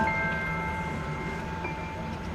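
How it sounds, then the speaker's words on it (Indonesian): A colonial-era train rattles along with a steady locomotive engine drone, a continuous loud rumble with faint tonal whine and no clear breaks. "Guncangan kereta, tiupan angin, dan suara mesin lokomotif menjadi latar asli yang menyertai setiap rekaman."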